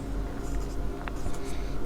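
Chalk or marker scratches briefly and faintly as someone writes on a board during a maths lesson, set against low room noise.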